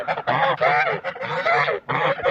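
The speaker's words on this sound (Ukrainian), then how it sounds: "Так, оце оце гусочка." A goose on a farm honking repeatedly, four close, loud nasal calls in quick succession separated by brief gaps.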